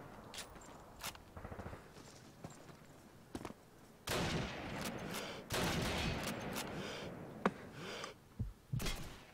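Scattered gunshots from Call of Duty 2, single sharp cracks and short bursts at irregular intervals, with a louder exchange of fire in the middle and occasional footsteps between shots.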